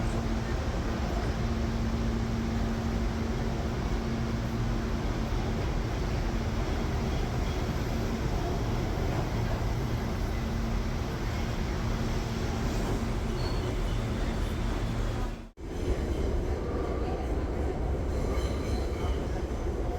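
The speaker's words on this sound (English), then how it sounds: "later I hop back on the New York subway" A New York City subway train rumbles along at speed, a continuous loud roar of wheels and car noise with a faint steady tone, briefly dipping to a near gap around the middle before the roar resumes.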